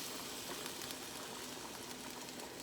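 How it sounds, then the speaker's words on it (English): A pot of chili simmers on the stove, giving off a dense, steady bubbling hiss up close that does not change over the few seconds, with no one speaking. "Let it simmer."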